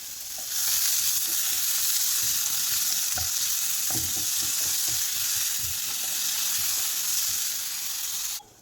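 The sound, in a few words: onions and tomatoes sautéing in a pan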